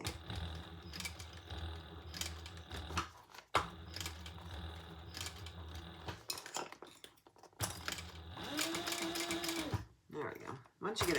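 A sewing machine stitches a rounded make-up bag in several humming, whirring runs broken by pauses, with its thread acting up, while a person talks over much of it.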